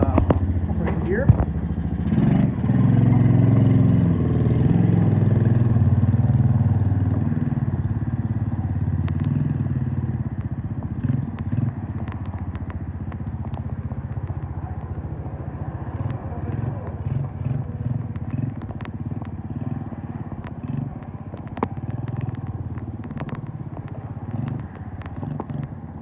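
A Kayo Bull 125 ATV engine idles and revs as it is put in gear, a close, steady low rumble with clattering mechanical ticks throughout, louder at first, while people talk over it.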